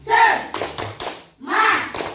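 Schoolchildren in a classroom perform a rhythmic group clap chant, bursts of voices alternating with short sharp claps in a patterned sequence, close and fairly loud.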